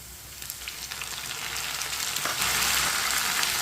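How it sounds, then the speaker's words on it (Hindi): Finely chopped tomatoes go into a pan of lightly browned onions for a white chana curry, and a steady sizzle builds and grows louder as they fry and are stirred. "2 बारीक कटे हुए टमाटर डाल लेंगे।"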